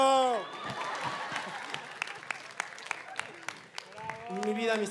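Studio audience on a Factor X talent show claps after a song, a scattered run of sharp claps between a singer's sustained voice at the start and talk resuming at the end.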